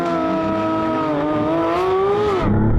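A Porsche GT3 RS and a Maserati MC20 launch together from a race start, loud engines climbing steadily in pitch under hard acceleration, then shifting abruptly near the end.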